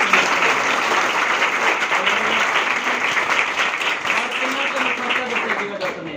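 Sustained, lively clapping from a church congregation at a Sunday worship meeting, loud and steady throughout, with a voice faintly audible beneath the applause.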